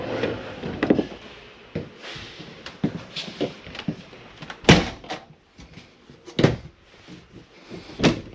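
Closet door in a Mesa Ridge 375RD RV opened and shut, a series of close wooden knocks, latch clicks and light thuds in an irregular rhythm.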